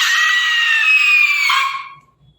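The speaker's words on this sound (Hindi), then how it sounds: "एक लड़की, उसकी चीखने की आवाज।" A girl's loud, high-pitched scream rings out alone for about a second and a half, then cuts off abruptly into near silence.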